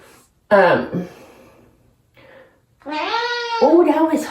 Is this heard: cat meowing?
yes